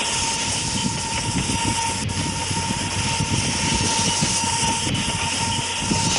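A video game train rumbles steadily and loudly, a constant roaring mechanical drone throughout with no voices.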